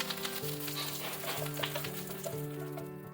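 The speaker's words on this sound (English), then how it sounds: "When the mustard seeds start sputtering, add a few sprigs of curry leaves." Mustard seeds and curry leaves frying in hot oil: a soft, continuous crackle and sputter, fairly quiet and partly masked by steady musical tones playing over it.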